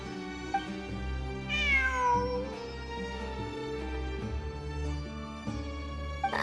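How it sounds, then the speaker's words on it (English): A cat meows in the video game Genshin Impact during the Fieldwise Center ruins exploration event, with several drawn-out, wavering meows over a steady musical drone. "It really is a cat."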